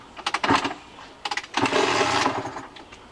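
A 2007 Kawasaki KX85 dirt bike with a freshly installed piston is kicked over, giving two short bursts of sputtering engine noise, the second longer and fuller as it nearly catches, close up and with no talk.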